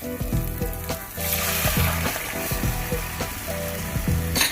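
A shark dry fish curry (karuvattu kulambu) bubbles and sizzles in a pot, giving a steady frying hiss close up. Soft, regular clinks and pops run through it, with no voices.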